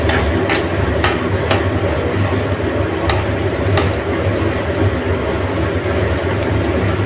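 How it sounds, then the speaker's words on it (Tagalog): Chicken stir fry with mushroom and broccoli bubbling and sizzling steadily in a pan, a continuous close frying hiss with faint stirring clicks and no talk. "Kumukulo na yung ating niluluto."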